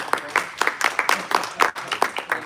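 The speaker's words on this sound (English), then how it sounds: "Let's give us a round of applause." A short burst of applause, a small group clapping at a steady, scattered pace, fairly close.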